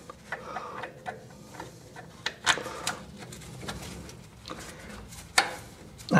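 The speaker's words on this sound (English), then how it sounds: "Just wind them in with a ratchet" Ratchet winding brake caliper bolts into a Land Rover Defender during a brake disc upgrade, heard as a run of quick metallic ticks and clicks at close range, irregular in rhythm with a few sharper knocks, no talk.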